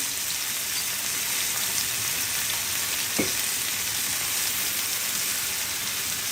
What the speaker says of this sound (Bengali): দিয়ে দিচ্ছি 1/2 কাপ পরিমাণ টমেটো কুচি, দিয়ে দিচ্ছি 1/2 কাপ পরিমাণ গাজর কুচি,